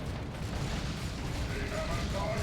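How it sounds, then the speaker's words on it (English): Chaos Terminators pour autocannon fire into a Dawn of War 2 3v3 battle, a dense, continuous rumble of heavy shots and explosions with a voice talking over it. "Chaos Terminators firing away with their auto cannon."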